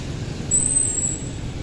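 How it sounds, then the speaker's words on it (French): Dense street traffic with scooters flows through Hanoi, a steady low roar of engines with a brief high hiss like an air brake in the middle. "En tout cas il y a beaucoup de circulation."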